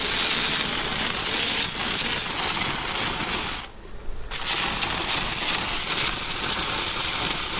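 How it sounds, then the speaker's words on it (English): A loud, continuous spraying hiss of water onto a signed Liverpool football shirt that drops out briefly for a moment, then resumes just as strong. "I'm just going to keep spraying."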